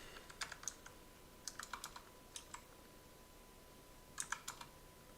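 Keys clack on a computer keyboard in short, faint bursts of quick keystrokes separated by pauses, with no voices.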